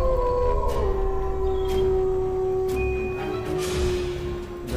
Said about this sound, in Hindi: सुन सकते हो कुत्ता भौंक रहा है